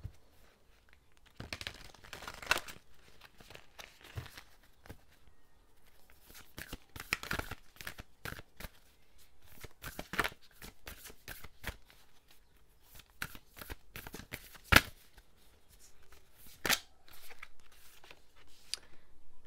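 A Moonology Oracle card deck is handled and shuffled in repeated quick riffling bursts with papery rustles between them, close and fairly soft, with no talk.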